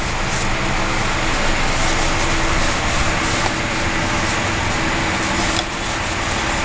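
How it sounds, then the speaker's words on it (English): Steady rubbing and wiping with a cloth soaked in rubbing alcohol over a Crosman 2400KT custom airgun before painting, a continuous close scrubbing hiss with no talk. "Now we're hitting it with some rubbing alcohol."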